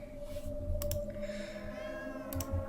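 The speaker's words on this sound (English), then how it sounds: "the cat meows when you come into the room" A cat meows in the Spirits of Carter Mansion video game, two drawn-out meows with a rising, wavering pitch over a steady low hum and soft ambient noise, moderately near, no talking.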